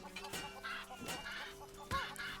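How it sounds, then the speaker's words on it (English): Chickens in The Legend of Zelda: Link's Awakening cluck in three sharp, separate bursts over a steady, quiet game background, with no talking. "then you get attacked from all sides by very revengeful chickens"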